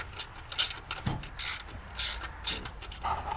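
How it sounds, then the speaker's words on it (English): Quiet, irregular ratchet clicking comes from a hand ratchet cranking the adjuster bolt on a car's power steering pump, short bursts of pawl clicks with brief pauses between strokes. "start cranking on the adjuster bolt here until I get some."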